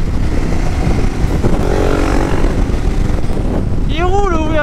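Loud, steady engine roar of a 700 motorcycle accelerating on a small coastal road, mixed with wind rush, with a voice speaking briefly near the end.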